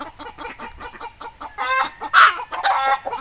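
Chickens cluck in a rapid rhythmic series, close by, building into louder, higher squawking clucks toward the end.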